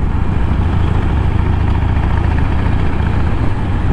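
Harley-Davidson Iron 1200 motorcycle engine running with a steady, loud low-pitched rumble and dense pulsing throb, heavy wind noise blending in, no voices.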